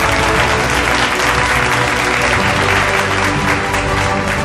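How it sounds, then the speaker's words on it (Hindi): Audience applause at a Bollywood business event in Chhattisgarh, dense and steady throughout, loud and close with no break. "जोरदार तालियां हो जाए इनके लिए।"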